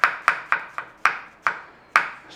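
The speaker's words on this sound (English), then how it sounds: "If you want to see mushrooms in your dish, you've got to slice it thicker." A knife slicing mushrooms thick on a cutting board, with eight crisp, evenly spaced chops that ring briefly on the board, close and clear with no talk.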